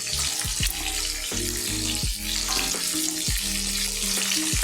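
Onion, capsicum and cinnamon frying in oil, a loud continuous sizzle with bursts of crackling and a steady hum underneath, no voices.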